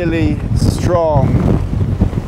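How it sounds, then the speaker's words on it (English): Strong wind gusts buffet an exposed campsite, roaring across the microphone in heavy, continuous bursts with the rumble of wind noise, while a person speaks briefly partway through. "That nearly blew me over. I'm not making that up either. That is a lot gustier than I was expecting."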